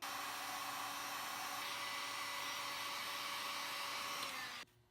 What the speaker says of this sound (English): go ahead and slip the heat shrink over them. Shrink it down